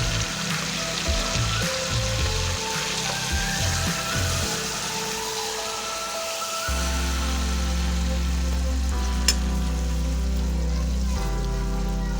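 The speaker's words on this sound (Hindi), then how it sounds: "इसमें अच्छे से भूनेंगे इसे।" Maida flour for white sauce roasts in a pan over a low flame, giving a steady sizzling hiss alongside shifting background tones, with no talking.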